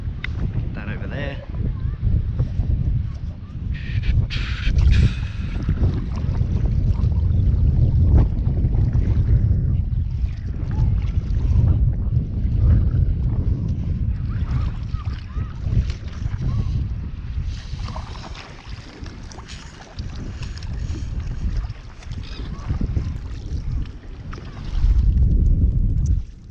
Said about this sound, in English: So I'm just gonna start paddling.